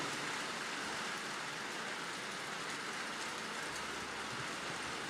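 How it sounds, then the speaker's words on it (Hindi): Steady, dense hiss of rain falling, continuous and even throughout with no voices, like a heavy shower close by. "जब बारिश की आवाज आती है"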